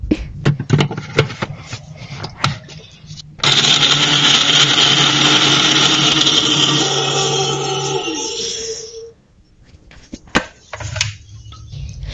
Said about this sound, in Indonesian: Nah, semua bumbu ini akan di blender sampai halus.